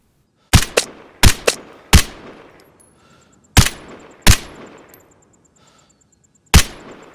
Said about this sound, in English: this is how you shoot in Vigor